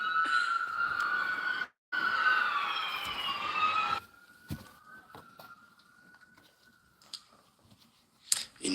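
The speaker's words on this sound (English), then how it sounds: "a few sirens ring out in the background" Emergency sirens wail at a cricket ground in Texas, distant and rising and falling in pitch, fading after a few seconds into faint background noise with scattered clicks.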